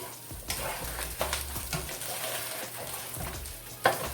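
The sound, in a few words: food frying in a pan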